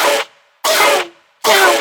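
A dubstep response bass synth plays three loud, bright, buzzing bursts in a steady call-like rhythm, each stopping abruptly into silence.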